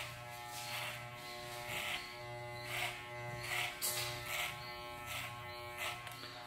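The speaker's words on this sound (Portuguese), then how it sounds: "Onde o cabelo está mais alto, eu vou passando a maquininha e vou modelando." Electric hair clipper trimming a fade haircut, a close steady buzzing hum with rising and falling swells as the blade moves through the hair, no talk.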